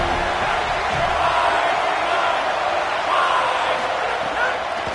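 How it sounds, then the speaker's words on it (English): Football stadium crowd at a Clemson versus FSU game roars steadily in a dense, loud wash of cheering with no breaks, swelling slightly at times. "This crowd knows this defense needs them right now."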